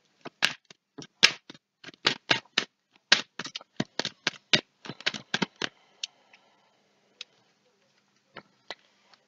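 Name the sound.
shuffling cards from two decks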